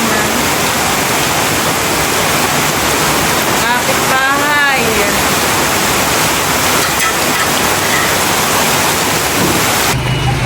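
Loud, steady rain hiss filling the whole stretch at a house under construction, with a voice briefly speaking partway through.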